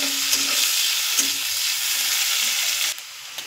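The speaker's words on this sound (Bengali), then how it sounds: "মরিচ পেঁয়াজ দিয়ে দিলাম।" Chillies and onions frying in oil in a pan, a loud, continuous close-up sizzle that crackles steadily and then eases slightly near the end.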